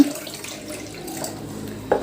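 Water pours steadily into a cooker holding soaked sago, a continuous splashing rush heard close up with a brief louder splash near the end.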